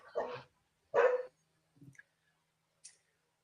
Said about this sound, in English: if you hear dogs barking in the background